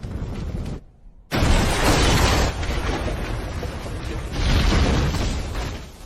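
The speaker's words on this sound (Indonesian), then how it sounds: "Ledakan berantai terjadi dengan dahsyat." Chain explosions in a film scene as a governor's palace is destroyed: a loud booming blast cuts in after a brief hush, followed by sustained roaring, rumbling detonations that swell again toward the end.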